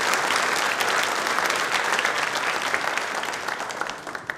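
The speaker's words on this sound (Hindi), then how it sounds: "एक बार ताली बजा दीजिए" Studio audience applause at a televised quiz programme, steady dense clapping that continues loud and even throughout, with no talk over it.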